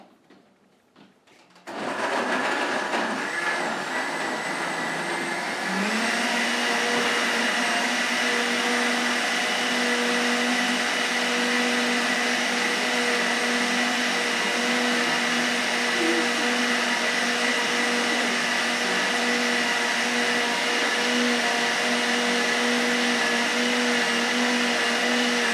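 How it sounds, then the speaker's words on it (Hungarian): A blender whirs loudly and steadily as it mixes a green smoothie with fruit juice, starting after a brief quiet moment and holding a constant motor drone throughout. "Egyet turmixolunk rajta."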